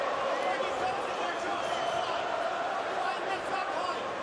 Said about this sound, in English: the crowd rise to the chants of Anthony Joshua